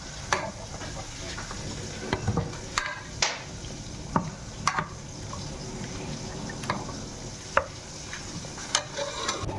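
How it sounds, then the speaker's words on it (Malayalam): Cooked pumpkin being mashed together with ground coconut paste in a pot, a continuous soft wet squishing with repeated sharp scraping clicks of a spoon against the vessel. "അരപ്പ് ചേർത്ത് ഇത് നമുക്ക് നന്നായിട്ടൊന്ന് ഉടച്ചെടുക്കാം"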